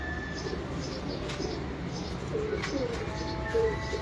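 In a home pigeon loft, soft cooing and a few brief higher chirps rise over steady background noise, the calls close but quiet.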